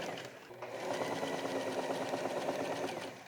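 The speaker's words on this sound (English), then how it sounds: "I, of course, sew these pieces together." A sewing machine stitches pieces of dark gray leftover fabric together for a laundry bag, a steady close whirring run that starts after a brief pause and continues evenly to the end.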